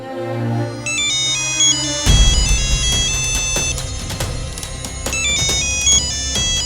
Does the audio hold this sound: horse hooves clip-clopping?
no